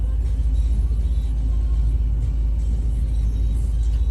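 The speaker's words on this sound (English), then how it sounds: "that beautiful street-looking HSV GTS in the Fuchs Lubricants lane" An HSV GTS and an FPV Ute at a drag racing event, heard as a continuous heavy engine rumble with a steady low throb, with no clear launch or pass.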